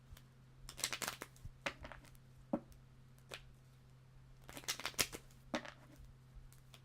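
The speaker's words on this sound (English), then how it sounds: "As I'm shuffling your cards, please take a moment to read the description box below" Tarot cards being shuffled by hand, with soft, irregular riffling and flicking bursts in two main clusters over a steady low hum, fairly close and quiet.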